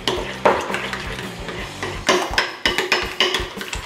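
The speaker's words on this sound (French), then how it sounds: "On mélange bien tout ça." A spoon stirring a fromage blanc mixture in a bowl, a close series of scrapes and knocks against the sides in an uneven rhythm, with no voices.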